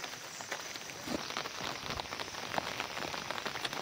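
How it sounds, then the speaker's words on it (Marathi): Light rain falls steadily over farm fields, a soft continuous patter of drops with no voices. "आता पाऊस चालू आहे पहा."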